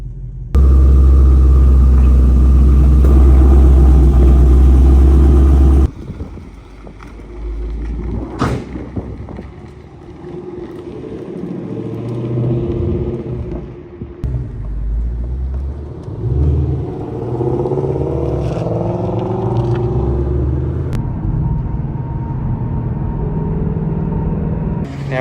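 Engine of a Shelby GT-350 rumbling on a test drive, a loud low idle at first, then steady road and engine noise from inside the moving car with occasional revs and mechanical clunks.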